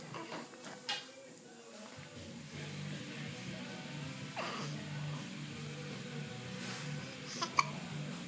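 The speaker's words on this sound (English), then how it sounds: "What do you think about your hiccups?" A baby hiccups a few times, soft short catches heard close by against a steady room hum, with no talking.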